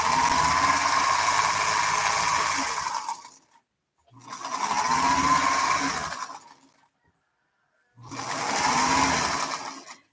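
A domestic sewing machine runs fast in three long continuous whirring bursts separated by short pauses, loud and close with no talk over it.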